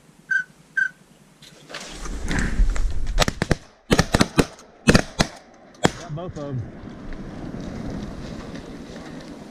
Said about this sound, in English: That shot though, that was a freaking